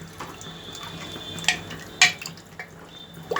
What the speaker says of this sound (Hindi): अब इसमें हम पानी ऐड कर देंगे